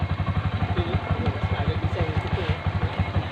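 A motorcycle engine idles smoothly at close range, its fast, even putter pulsing steadily throughout, with a person talking briefly over it.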